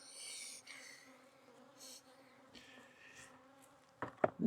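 Bees buzzing around beehives in winter, several fly past close by with rising and fading drones, quiet overall with a few louder buzzes near the end.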